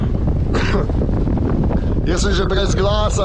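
Loud wind buffeting the microphone aboard a sailboat on a round-the-world voyage off Egypt, a steady roar throughout with a person talking over it.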